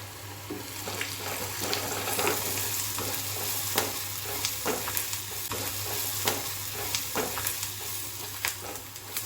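Onion frying for soya chunk and cabbage kofta sizzles steadily in a pan, broken by regular scraping stirs of a utensil, close and moderately loud, with a low constant hum underneath and no talking.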